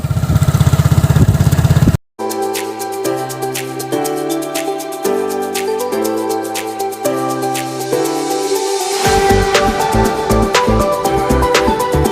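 A motorcycle engine runs steadily with a low, droning tone and shifting pitch, close by and fairly loud, with no voices over it.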